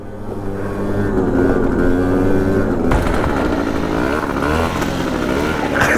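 A Chinese scooter engine held at full throttle, a loud, close, buzzing whine that climbs in pitch and then holds steady and strained for several seconds without letting off.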